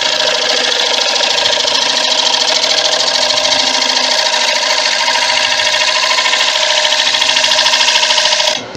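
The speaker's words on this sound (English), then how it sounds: "I'm going to hit there with the carbide now" Carbide tool cutting a resin bowl on a wood lathe: a loud, steady hissing grind with a constant motor whine, running unbroken for several seconds before stopping abruptly.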